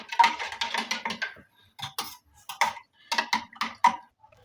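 A spoon stirring amla juice mixed with salt, black salt and roasted cumin powder, clinking against the vessel in short irregular bursts with brief pauses between them, close and fairly quiet.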